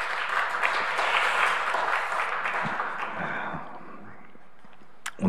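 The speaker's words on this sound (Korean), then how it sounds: "박수로 한번 함께 영광 돌리겠습니다." Applause from a church congregation at a Sunday worship service, a broad steady wash of clapping that fades out near the end, followed by a brief bump of sound.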